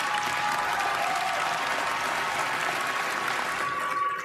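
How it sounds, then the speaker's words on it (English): A smattering of audience applause, steady moderate clapping heard from a distance with no talk over it, sustained for a few seconds. "That is what's known as a smattering of applause, ladies and gentlemen."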